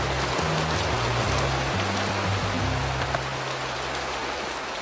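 Steady rain falling across open savanna grassland, a dense continuous hiss of drops on the ground, even and enveloping, with a low rumble underneath.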